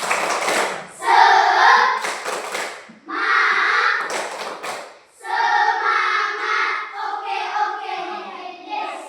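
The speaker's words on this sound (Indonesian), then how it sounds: "Tepuk semangat." A primary class in Indonesia, fifth graders at SD Negeri Golo Lansing, performs the tepuk semangat clapping chant together, with bursts of rhythmic hand claps and group chanting in several phrases, fairly close and loud.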